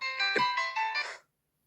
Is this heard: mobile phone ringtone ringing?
yes